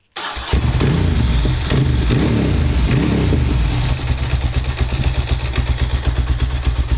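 A freshly rebuilt, retuned carburetted engine cranks and catches abruptly, then runs at a loud, close, slightly uneven idle with a pulsing rhythm that settles steadier after a few seconds.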